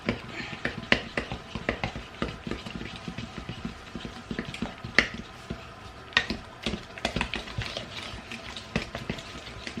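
A whisk beats a sugar mixture in a bowl, making rapid, irregular clinks and scrapes that go on the whole time at moderate loudness.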